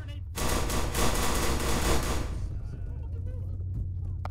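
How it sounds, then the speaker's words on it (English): Rapid machine gun fire in the military shooter Arma 3, a dense loud burst of rattling shots for about two seconds, then fading into a lower rumble of distant gunfire with voices faintly underneath. "We've got machine gun fire."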